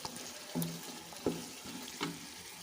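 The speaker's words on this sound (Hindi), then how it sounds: "ये देखिए 4 से 5 मिनट हो चुके हैं माशाल्लाह से गोश्त को भूनते हुए।" Mutton (gosht) being bhuna-fried in a pan with cardamom and cinnamon, a soft continuous sizzle broken by three scraping stirs of a spoon, close and quiet with no talking.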